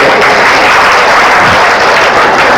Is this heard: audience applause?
yes